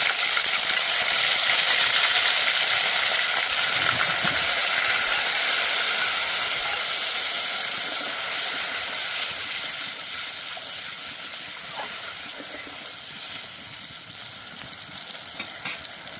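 Chili and cumin fry in hot oil as ginger, cumin and dried chili pastes with spice-rinse water go in, giving a loud, continuous sizzle and hiss that gradually softens, close up with no talking.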